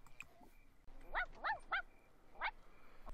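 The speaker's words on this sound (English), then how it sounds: "He's barking." Small dog barking in The Sims 4, four sharp, evenly spaced yaps that stand out clearly above a faint background.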